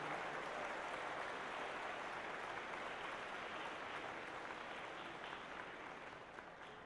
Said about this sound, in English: let's give them all another round of applause for all the hard work that they do